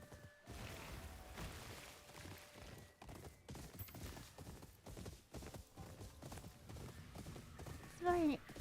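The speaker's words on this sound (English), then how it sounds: "I like the sound the horse hooves make." Horse hooves clip-clop steadily through the open world of the Ghost of Yotei video game, a soft rhythmic patter beneath talking and game sounds, with a brief louder burst near the end.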